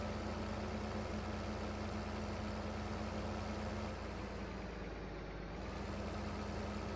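Tractor engine idling in the farming game Farming Simulator 2015, a steady low droning hum with a constant mechanical tone, even and unbroken, heard alone without voices.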